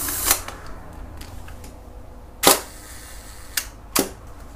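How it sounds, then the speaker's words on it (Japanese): Shutter release of a Hasselblad 500C/M medium-format film camera fitted with a Carl Zeiss Planar 80mm f/2.8 lens: four sharp, close mechanical clicks spaced irregularly over a few seconds, with no talk. "一応試しで何回かはシャッターを切ったりしています"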